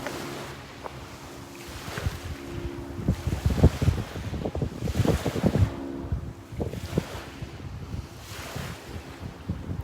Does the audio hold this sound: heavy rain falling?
no